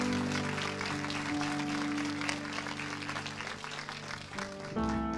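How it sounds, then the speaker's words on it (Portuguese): A church congregation applauds during a Portuguese-language sermon, a steady wash of clapping blended under sustained keyboard or organ chords. "Amém, aplausos ao Senhor."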